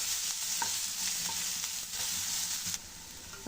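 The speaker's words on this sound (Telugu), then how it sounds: "ఆవాలు చిట్పట్లాడిన తర్వాత ఆనియన్ పచ్చిమిర్చి కరివేపాకు వేసుకుందామండి ఇప్పుడు దీన్ని కలుపుకుంటూ కొంచెం ఫ్రై చేసుకుందామండి" Onion, green chillies and curry leaves frying in oil after mustard seeds, a steady close sizzle with scraping stirs of a spoon, the hiss dropping slightly near the end.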